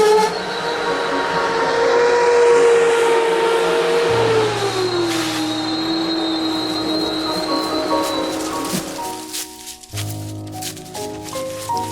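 A train rolls across a 107-metre truss railway bridge spanning the Radunia valley near Żukowo, a loud steady rumble with a long sustained horn-like tone that slowly falls, then fades with clattering wheels toward the end.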